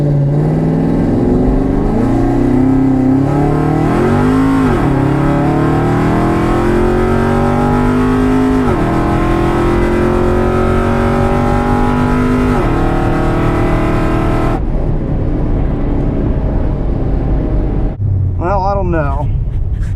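A drag racing car launching and accelerating hard down the strip, its loud engine note climbing repeatedly through gear changes before cutting off abruptly, with a brief rev afterward.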